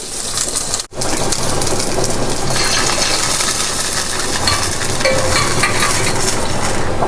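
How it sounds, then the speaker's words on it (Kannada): Mustard seeds, chillies and curry leaves frying in hot oil as a tempering for lemon rasam, a loud, dense, continuous sizzle and crackle, close up, with one brief break near the start. "ಸಾಸಿವೆ ಸಿಡಿದಾಗ ಕರಿಬೇವಿನ ಸೊಪ್ಪು ಹಾಕ್ಕೊಳ್ಳಿ ಒಂದು ಸತಿ ಫ್ರೈ ಮಾಡಿ"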